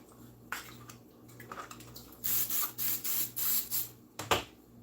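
Several short bursts of cooking spray hiss close up in quick succession onto a muffin baking pan, with a faint background hum.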